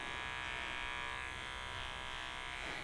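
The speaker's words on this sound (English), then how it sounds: "clipping out our little pad" Electric dog clippers buzz steadily and softly while trimming fur between a dog's foot pads, a constant even hum throughout with no voices.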